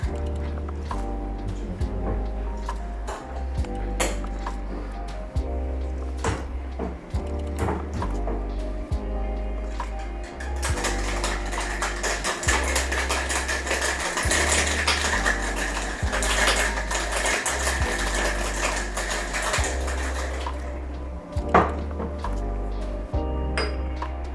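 Rapid rattling and clinking of ice inside a cocktail shaker, loud and close, shaken steadily for several seconds with brief pauses.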